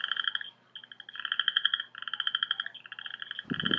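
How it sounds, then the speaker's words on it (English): Southern Chorus Frog calling close and loud: continuous rising, rasping trills repeated back to back, like a fingernail run along a comb, with a brief low thump near the end. "The Southern Chorus Frog sounds very similar to running your fingers over a comb."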